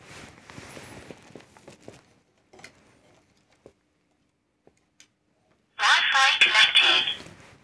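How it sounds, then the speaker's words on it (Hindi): A small wifi camera plays a recorded voice prompt announcing its connection. The loud, close spoken announcement comes near the end, after quieter stretches with faint talk and scattered taps. "अब इसने बोल दिया कि वाईफाई कनेक्टेड,"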